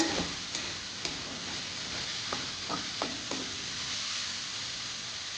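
Chicken meat fries quietly under a lid in a covered pan, a soft steady sizzle with a few faint ticks and taps from the cookware.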